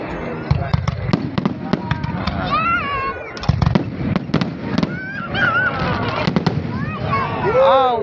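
Fireworks at a night show pop and crackle repeatedly at close range while excited voices shout and exclaim over them throughout.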